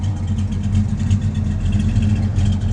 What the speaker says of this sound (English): Some of the friendly neighbors coming by in their beautiful Corvettes.